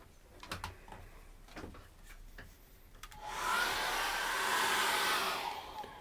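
Hair dryer blowing on a freshly painted acrylic canvas, a steady loud broadband rush that switches on partway through after a few light taps and clicks, then holds near and constant.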